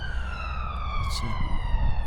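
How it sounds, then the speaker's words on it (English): An ambulance siren wails with a steady, high tone as it passes by outdoors beside a fishing spot, over a low background rumble. "This ambulance going past."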